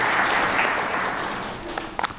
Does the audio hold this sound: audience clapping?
yes